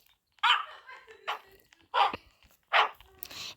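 A pack of video-game dogs barks in several sharp, loud bursts, spaced roughly every half second to a second, with brief quieter gaps and a faint yip near the end.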